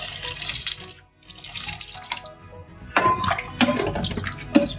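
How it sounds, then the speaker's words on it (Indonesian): Boiled water poured over peeled rambutans in a bowl, a close running-water splash and trickle that pauses briefly and then resumes with louder sloshing. "Setelah itu kita cuci ya dengan air matang."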